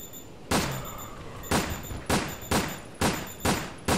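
Six sharp gunshots ring out in Resident Evil: Dead Aim, loud and close, fired at irregular intervals of roughly half a second to a second, each with a short decaying tail and no talk over them.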